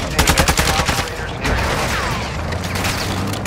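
Video game gunfire, a rapid burst of loud automatic shots at the start, then continuous rumbling battle noise with a vehicle-like drone underneath and faint voices.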